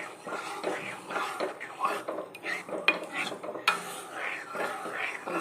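Cooked toor dal being stirred into mashed elephant foot yam in a pot, with close scraping and clinking of a ladle against the vessel in uneven strokes and a faint sizzle underneath.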